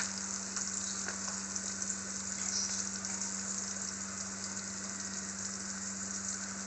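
Cinnamon and cumin sizzling in hot oil in a cooking pot, a steady close crackling fry with occasional sharper pops, continuous and even throughout.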